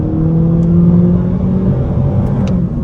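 A 2024 Honda Civic Sport Hatchback with a CVT pulls hard under throttle. Its engine drone holds steady and loud from the cabin through the whole stretch, and there is no talking over it.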